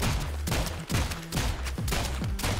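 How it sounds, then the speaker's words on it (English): Bombs exploding in the Rounds video game: a rapid string of loud, punchy blasts and booms in close succession, dense and continuous with no talking. "Look at those bombs!"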